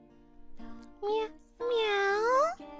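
A person imitates a cat's meow with two drawn-out, wavering mewing calls, the second long and rising then falling, close and clear against a quiet backdrop.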